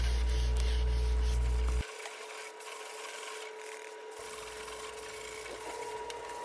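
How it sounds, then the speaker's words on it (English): Steady, fine abrasive rubbing of 600-grit sandpaper across primered car panels, a soft continuous rasp that keeps going without pause. "here's the sanding process with the 600 over the primered panels"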